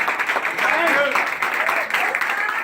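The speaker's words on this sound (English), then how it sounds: "round of applause for Scott Einbinder" Audience applause for Scott Einbinder at a gathering of new RR franchisees in training, a steady wash of clapping with cheering voices and chatter mixed in throughout.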